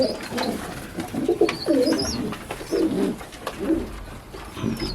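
Pigeons cooing in a loft, a steady series of soft, throaty coos close by, overlapping one another with occasional faint chirps and no talking.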